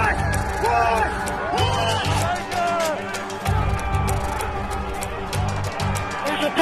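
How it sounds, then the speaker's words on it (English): Crowd of Capitol attackers swarming a police line on a terrace: dense shouting and yelling from many voices, loud and chaotic, with rising cries and thuds of bodies and scuffling throughout. "The crowd swarms the lower terrace."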